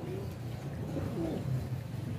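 A pigeon being bathed gives soft, low cooing murmurs in a short, continuous stretch, close by and fairly quiet.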